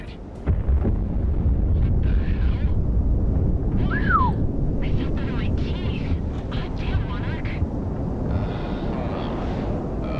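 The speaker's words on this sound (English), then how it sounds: "Now that's what I call an explosion." Explosion in the combat flight video game Project Wingman, a sustained roaring rumble with a swooping whistle and crackling bursts layered over jet noise across several seconds.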